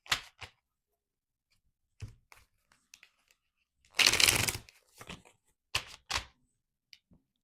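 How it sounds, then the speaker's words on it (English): Tarot cards are shuffled by hand in sparse dry clicks and flicks, with one louder riffling burst in the middle. The shuffling is close and quiet against silence. "I'm going to shuffle them 3 times"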